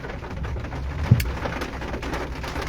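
Steady rain falling outdoors, a continuous even hiss through the whole stretch with one brief low thump near the middle; no voices.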